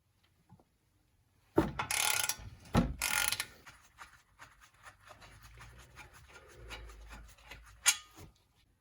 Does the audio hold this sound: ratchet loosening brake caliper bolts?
yes